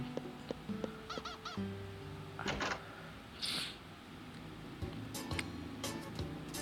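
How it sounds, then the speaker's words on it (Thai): Chickens in the farming video game Harvest Moon Hero of Leaf Valley give several short, honking clucks early on, followed by a few brief squawks over a quiet, steady game background. "มีไก่ที่ นี่ อยู่สามตัวนะครับผม"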